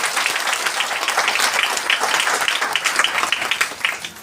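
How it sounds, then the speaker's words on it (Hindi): A crowd at a DXN business seminar bursts into energetic applause, a dense, loud patter of many clapping hands that stays strong and then begins to taper off at the very end. "फिर से एक जोरदार ताली आप सभी देंगे।"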